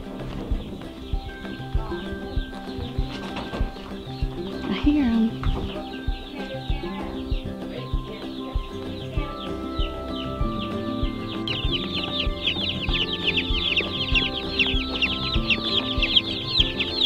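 Many baby meat chicks peep constantly in a dense, high chorus, nearby and growing busier toward the end, with occasional clucks and rustling.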